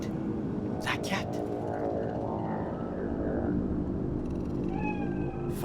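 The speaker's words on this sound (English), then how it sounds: "Fine-looking feline." A cat meows in a Night City street scene from Cyberpunk 2077, short mewing calls set against a dense, steady ambient city bed with a voice talking over it.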